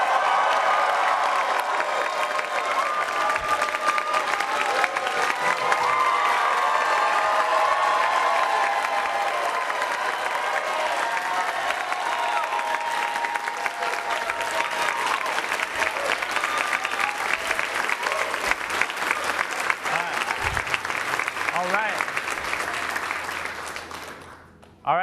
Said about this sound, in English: I'd like to ask you for the biggest round of applause as I invite Logan and John to the podium